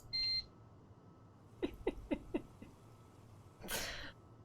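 A short electronic beep from the video game The Letter sounds once at the start, followed by a few soft rhythmic thumps and a brief breathy burst near the end, all quiet against faint room hiss.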